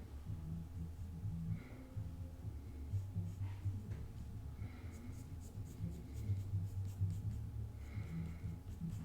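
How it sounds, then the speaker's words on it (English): A blue pencil scratches and sketches outlines on paper in soft, quiet strokes over a low hum, with short bursts of scribbling. "So the blue pencil is just, I'm just kind of doing the outline of everything."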